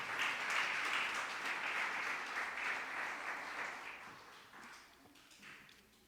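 A church congregation claps during a Sunday service, a dense, steady wash of many hands heard from across the room, slowly thinning toward the end with no talk over it.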